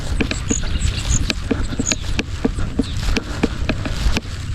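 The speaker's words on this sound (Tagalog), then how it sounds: "Lakas ng ulan na yan." Rain patters steadily with scattered sharp drips and taps over a low rumbling background, fairly close and continuous.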